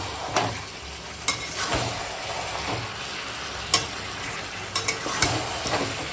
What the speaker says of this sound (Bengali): দিয়ে এখন মাংসটা শুধু কষাবো